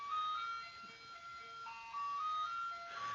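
An ice cream truck plays its jingle loudly, a bright, repeating melody of steady electronic tones running through the whole moment with no talking over it.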